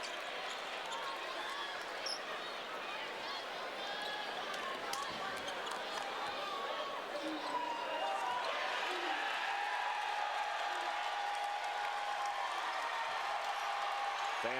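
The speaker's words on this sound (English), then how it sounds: "Fans applauding 5 new volunteer players set to come in." Basketball crowd at a Georgia–Tennessee college game applauding as five new Tennessee players come in, a steady broad wash of clapping and crowd noise with some whistling tones, continuous and moderately distant throughout.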